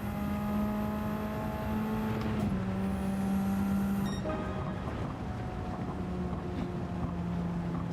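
A race car engine under turbo boost in the Gran Turismo 7 racing game, a steady droning tone that shifts pitch a couple of times, with a thin high whine over it and no talking.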